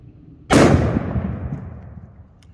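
A single loud gunshot from a .500 Bushwhacker firing a 310 grain cartridge, outdoors at a shooting range, with a sharp crack followed by a long booming echo that fades over two seconds.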